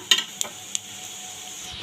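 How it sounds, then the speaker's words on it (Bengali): Potatoes fry quietly in a pan: a soft, steady hiss broken by a few light utensil clicks near the start. "দেখো তোমরা আলুগুলো ভাজা হচ্ছে, নামিয়ে নিচ্ছি।"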